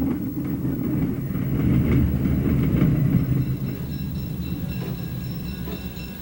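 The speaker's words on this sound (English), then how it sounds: "you can count on the orange and black switchers of the IHB to come through with a variety of trains" Orange and black IHB switcher locomotives haul a train at McCook, Illinois: a steady, loud rumble of engines and rolling wagons that swells in the middle and carries on throughout, with faint high squeals toward the end.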